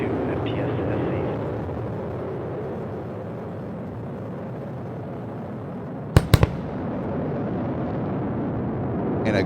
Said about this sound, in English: And a great sonic boom.